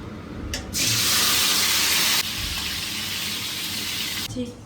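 Tomatoes drop into hot oil in a kadai with a sudden loud hiss that holds steady for a few seconds, then eases slightly before fading out.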